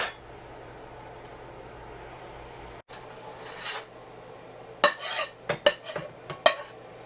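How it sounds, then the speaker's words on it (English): Seafood mac and cheese being scooped and transferred into a baking dish, first a quiet stretch, then a cluster of sharp utensil scrapes and clinks against the cookware, close and uneven. "I'm just going to transfer this to the pan, the baking dish"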